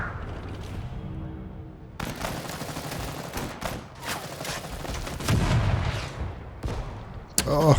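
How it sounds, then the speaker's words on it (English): Artillery fire in the Total Tank General Soviet campaign, Operation Uranus: loud, repeated booming blasts and crackling impacts in irregular bursts, close and heavy. "Oh, that artillery."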